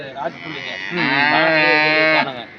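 A dairy cow at the Anthiyur cattle market gives one long, loud, drawn-out moo that rises and holds steady for over a second before breaking off, heard close and alone.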